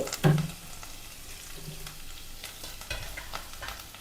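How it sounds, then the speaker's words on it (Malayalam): Curry leaves and ginger-garlic paste fry in a pan for a Kerala fish curry, giving a steady low sizzle. A spoon knocks and scrapes against the pan near the start and again toward the end. "നമുക്ക് നന്നായിട്ടൊന്ന് ഇളക്കി കൊടുക്കാം കേട്ടോ"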